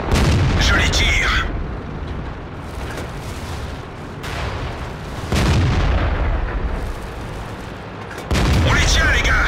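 Tank cannon shots from a Bat.-Châtillon 25 t in World of Tanks boom loudly, about three heavy blasts spaced a few seconds apart, with a rumbling tail between, under game voice chatter.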